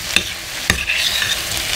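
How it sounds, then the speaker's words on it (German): Red lentils frying in a pot over a high flame for a coconut lentil soup, giving a steady soft sizzle with two sharp stirring clacks near the start. "wenn die Flamme hoch ist und es langsam brutzelt"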